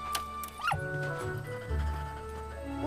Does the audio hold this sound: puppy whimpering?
yes